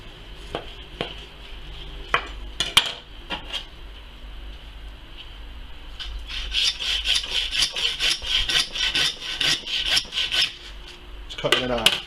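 A saw cuts a lamb carcass in half through meat and bone, heard as rhythmic rasping strokes that start sparse with a few knocks, then speed into a dense back-and-forth run, close and fairly loud, with no talk.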